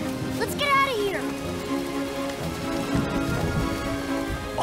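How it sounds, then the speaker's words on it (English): Steady rain patters in a continuous wash of noise in an animated cartoon, with brief voices and musical tones rising over it early on. "It's raining."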